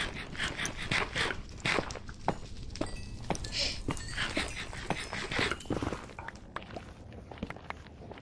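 Dog in the Minecraft video game, a series of short yelps and whimpers mixed with footstep thuds and clicks, fairly close, with no speech over it.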